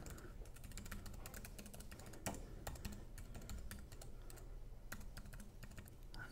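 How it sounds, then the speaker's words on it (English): Typing on a computer keyboard while entering a name into a sign-up form, a quick, irregular patter of close key clicks with brief pauses, no talking. "And I'm going to type in my name."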